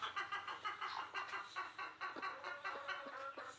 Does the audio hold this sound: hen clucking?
yes